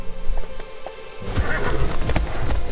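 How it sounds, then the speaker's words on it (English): A horse in LEGO The Hobbit video game neighs in a loud whinny, with game sounds and clip-clop hooves under it and a fuller burst of noise in the second half. "And that horse has been successfully freed."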